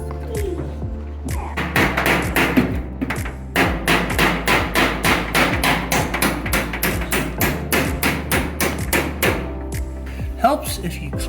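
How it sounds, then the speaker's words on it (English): A hammer drives a hinge pin into the door of a Mercedes-Benz-powered 1930 Ford Model A hot rod with a rapid series of sharp metallic taps, some louder blows, then brief pauses, close up and loud with no talking. "Helps if you clean the pin before you try to hammer it in."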